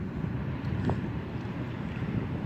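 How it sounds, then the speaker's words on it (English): Low, steady rotor and engine rumble from a helicopter passing overhead outdoors, a continuous broad drone with wind buffeting, moderately loud and without voices. "you can hear the helicopter. I don't see it though. You can hear them. It's going right overhead."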